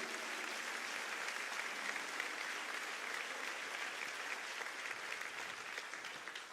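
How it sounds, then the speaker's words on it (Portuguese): Church congregation applauding during a sermon, a continuous even wash of many hands clapping at moderate distance, sustained throughout without a break. "dá uma salva de palmas para Jesus"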